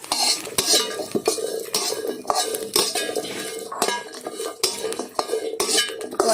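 Chillies, shallots and garlic dry-roasting in a pan, with a utensil scraping and clinking against the metal in a steady, busy rhythm of sharp taps and rustles, close and fairly loud.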